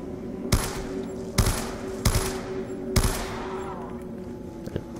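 Four loud, sharp gunshots from a gun in the Black Ops 2 Zombies video game, roughly evenly spaced about a second apart over a steady in-game hum, with a faint tail at the end.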